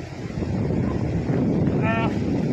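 Strong wind buffets the microphone on a small fishing boat in rough sea, making a continuous loud roar with wave wash beneath it; a voice is heard briefly near the end.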